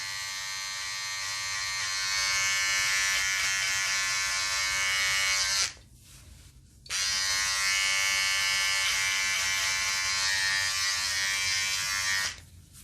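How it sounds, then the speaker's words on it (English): An electric beard trimmer buzzes close by in a steady, high drone while a beard is lined up. A brief dip breaks the sound before it resumes, and the buzz then cuts off near the end. "once you start to get towards the middle, you want to take your trimmer and point it a little more towards"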